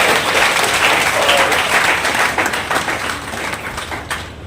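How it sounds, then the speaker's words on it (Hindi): Loud audience applause welcomes Arya Samaj president Ashok Arya at a Udaipur memorial poetry gathering: dense, sustained clapping from a large crowd that fills the whole stretch, easing slightly near the end. "जोरदार तालियों से स्वागत करते हैं"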